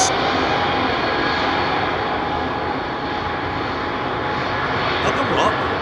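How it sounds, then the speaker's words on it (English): Aer Lingus Airbus A320 jet at London Heathrow, its steady engine roar broad and sustained at fairly constant loudness, with people talking over it. "Brand new A320 next, Aer Lingus to Shannon."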